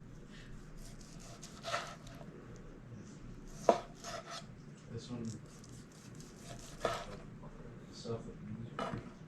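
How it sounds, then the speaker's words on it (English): A knife slicing seared venison tenderloin on a board, giving a few soft cuts and sharp taps at irregular intervals under low background noise. No one talks during the cutting. "Take our seared tenderloins and just cut them into thin slices like that."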